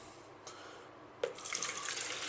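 Cold, strong brewed tea being poured into a container for homemade Ribena wine, a faint trickle that turns into a louder, steady liquid pour partway through.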